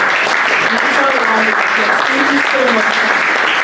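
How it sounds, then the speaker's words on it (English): Audience applause fills a hall after a talk at an empowerment event, steady and loud throughout, with a voice briefly speaking over the clapping. "Please, a round of applause."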